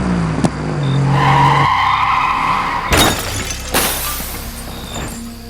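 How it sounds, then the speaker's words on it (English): In a vintage horror audio drama, a car's front tire blows out and the car swerves into a long, loud skid with screeching tires, broken by two sudden crashing, shattering bursts near the end. "Front tire blew out! Swerving! Can't turn straight!"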